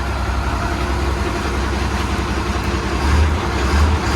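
A MAN concrete mixer truck with a 280 hp engine and a Liebherr mixer drum idles steadily and close by, a low, constant rumble that rises slightly near the end as the revs come up a little.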